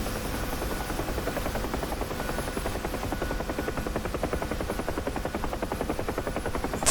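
A Huey helicopter's rotor thumps in a fast, even beat over a steady engine whine in a flight simulator game, close and continuous for several seconds with no talking.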